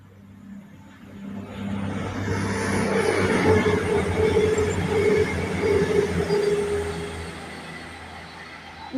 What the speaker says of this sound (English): Here's the Voyager from Manchester to Bristol.